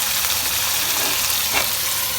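Tamarind fish curry frying in a pan, a continuous close hiss and sizzle with a brief stirring scrape partway through.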